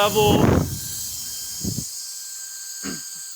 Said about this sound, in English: This is a compressed air fan that can replace all of your compressed air canisters.